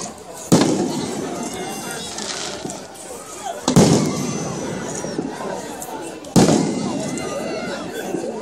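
Fourth of July fireworks burst three times, each a loud sharp boom that fades into crackle, while a nearby crowd chatters and exclaims throughout.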